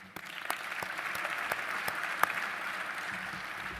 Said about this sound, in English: Just one round of applause for our scholarship winners and for our generous donors